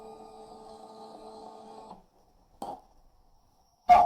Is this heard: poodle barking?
no